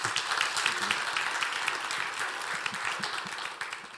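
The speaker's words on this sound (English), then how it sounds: "let's welcome them with a round of applause" An audience at a church service gives a round of applause, dense sustained clapping from a crowd that stays steady for several seconds before starting to fade.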